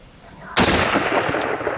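A single loud rifle shot cracks out during a Wisconsin deer hunt, fired at a buck, with its sharp blast followed by a long rolling echo through the woods.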